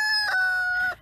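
A backyard chicken from a mixed laying flock crows close and clear in one long, sustained cry, ending abruptly.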